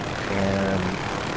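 A helicopter in a video game drones with a steady, dense engine roar and a faint tonal hum, continuous and unbroken throughout.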